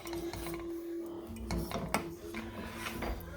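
Strained pasta is dumped back into a pot on a switched-off stove and a metal strainer is tossed into the sink, giving close metallic clatters, scrapes and a sharp clank with no talking.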